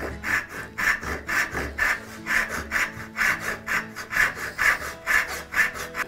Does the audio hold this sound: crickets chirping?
no